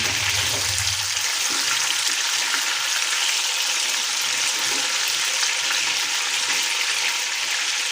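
Chicken frying in oil with whole spices for a Lahori chicken karahi, a steady loud broadband sizzle throughout, with a brief low bubbling rumble at the start.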